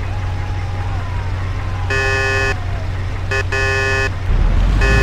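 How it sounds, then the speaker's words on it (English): A car horn honks in the Mafia video game, a short blast followed by two more bursts and a final toot, loud over a steady low engine rumble of the taxi. "you should warn them by sounding the car horn"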